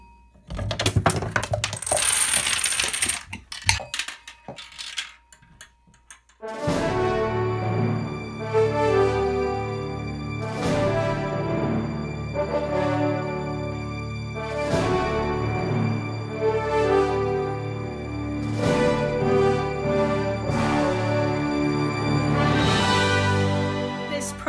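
A marble runs through a Rube Goldberg machine course after an inclined plane and jump, a noisy rattle followed by a long series of repeated ringing metallic bell-like strikes decaying one after another.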